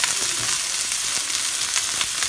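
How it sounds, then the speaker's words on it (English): Sliced onions sizzle in a pan with an even, close frying hiss and scattered light spatters and stirring ticks, with no voices over it. "You see the onions in the pan there like that, okay? Let them cook."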